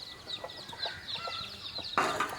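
Free-range country chickens cluck softly and repeatedly close by, with a brief louder squawk near the end over a steady background hum.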